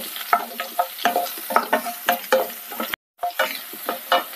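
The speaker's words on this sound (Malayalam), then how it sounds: "ഇനി ഈ പച്ചമുളകിൻ്റെ ഇഞ്ചി വെളുത്തുള്ളിയുടെ ഒക്കെ പച്ചമണം ഒന്ന് മാറുന്നത് വരെ നമുക്കൊന്ന് വഴറ്റിയെടുക്കാം" Green chili, ginger and garlic sautéing in hot oil for a fish curry, with steady sizzling and repeated scraping stirs of a spoon against the pan, close and clear, with a brief silent gap near the end.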